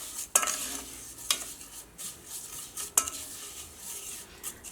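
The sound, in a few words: vermicelli roasting in ghee, stirred in pan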